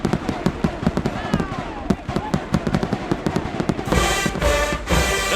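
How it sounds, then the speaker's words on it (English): Fireworks burst in rapid, uneven pops and thumps at a Grambling State versus Texas Southern football game's fifth quarter, loud and close, with crowd noise and talking mixed in throughout. "The fireworks is crazy"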